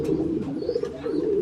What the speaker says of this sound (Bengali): এখানে আমরা আরেক জোড়া কবুতর দেখতে পাচ্ছি